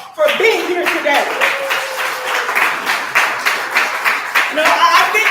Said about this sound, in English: give your own selves a round of applause for being here today